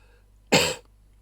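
One short, sharp cough, close and loud, in an otherwise quiet room.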